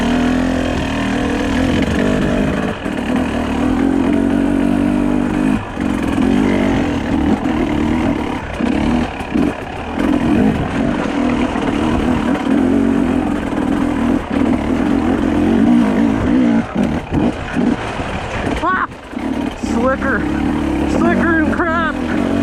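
A dirt bike engine drones and revs steadily on a trail ride to an abandoned mine in Idaho, heard close, with wind buffeting and a rider talking intermittently over it.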